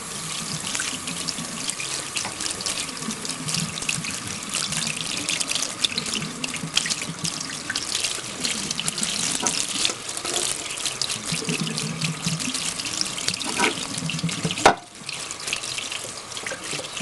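Tap water running steadily into a kitchen sink while glass dishes are rinsed, a continuous close splashing stream with small clinks and a brief dip near the end.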